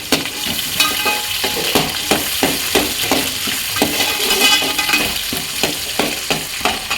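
Whole large onions fry in hot sesame oil with a loud, steady sizzle, broken by regular scraping stirs, close by with no talk.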